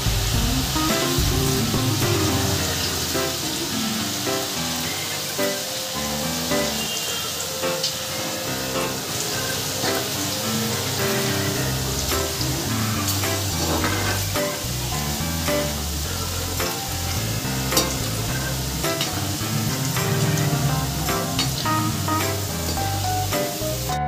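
Potato shreds frying in hot oil keep up a steady close sizzle and hiss, with occasional scrape and clatter as a slotted spoon stirs them, continuing throughout with no voices.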